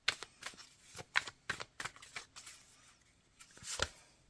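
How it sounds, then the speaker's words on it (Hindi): A card is drawn from a tarot deck amid a run of crisp, close paper snaps and flicks, about a dozen quick riffling taps spread unevenly, louder near the start and end. "और लास्ट कार्ड निकालेंगे"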